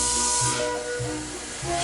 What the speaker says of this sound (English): with the blow of a whistle, the Flying Scotsman had finished her time in Doncaster and was off for York